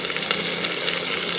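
Gourd, pumpkin and beans tipped into a pan of fried onions for a homemade sambar, giving a loud, steady hiss and crackle of sizzling with no pauses.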